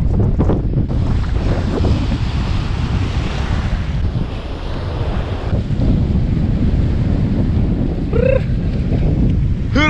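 Sea waves surge steadily against a beach under strong wind buffeting the microphone, loud and continuous, with a brief faint whistling tone near the end.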